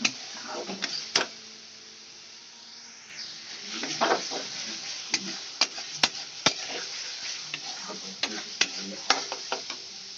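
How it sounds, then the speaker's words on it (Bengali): Onion being sautéed until reddish-brown in a pan for a fish curry: a soft background sizzle broken by repeated sharp scrapes and knocks of a spatula against the pan, with irregular, fairly close clatter. "আমি লাল করে পেঁয়াজটা কষিয়ে নেব"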